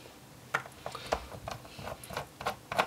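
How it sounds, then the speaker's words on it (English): A screwdriver backs out the base screws of an HP 250/255 G7 laptop, giving quick ratcheting clicks in a steady repeating rhythm, close and fairly quiet, with no talking. "remove these screws from the base"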